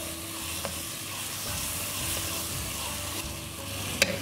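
A paste of green chili, garlic, coriander and fennel is stirred into a pan of onion, tomato and prawns for pulao, with a continuous sizzle and a scrape or two of the spoon close by.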